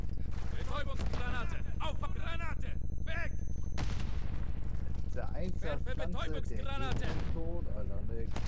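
Grenade blasts and gunfire in the Call of Duty: Modern Warfare III multiplayer game, a dense run of sharp booms and shots, with a heavy hit near the middle, under steady talk in German.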